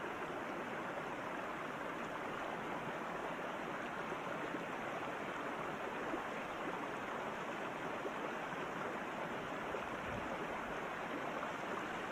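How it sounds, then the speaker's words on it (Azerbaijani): Steady rushing water flows without a break, a soft even wash of a cold mountain spring issuing from a steep rock face in Kalbajar, with no other sounds. "Bu sərt qayanın düz döşündən çıxır bu bulaq."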